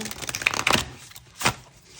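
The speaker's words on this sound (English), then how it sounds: "I'm just going to shuffle really quick" Quick riffling bursts of a tarot card deck being shuffled up close, two short flurries of papery flicks separated by a brief pause.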